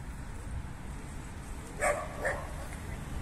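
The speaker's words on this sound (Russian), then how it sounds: "Собачки тут лают." Dogs bark twice on a street in Kislovodsk, two short yaps a moment apart that sound somewhat distant over steady outdoor background noise.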